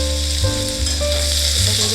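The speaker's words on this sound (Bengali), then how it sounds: "পেঁয়াজটা হালকা ভাজা হয়ে গেছে" Sliced onion sizzles steadily in hot oil with black cumin and green chilli, a continuous close frying hiss with a low rumble beneath it and no voices.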